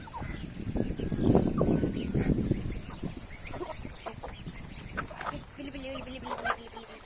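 Chickens and roosters cluck and chatter nearby at a coop while feeding, with a person speaking over the flock at times and scattered higher calls toward the end.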